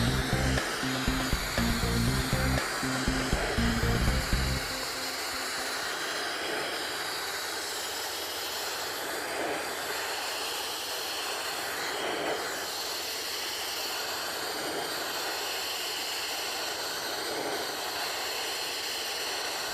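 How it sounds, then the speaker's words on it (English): Abrasive blasting of steel to a white metal finish makes a loud, unbroken roaring hiss. A heavier low rumble fills the opening seconds, then the blast carries on steadily alone. "To achieve a white metal blast on a grade C substrate, the blaster must move very slowly and much more deliberately"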